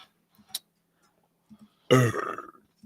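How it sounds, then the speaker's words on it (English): A single loud, throaty burp bursts out after a stretch of near silence broken only by a few faint clicks. "I burped too. It was disgusting."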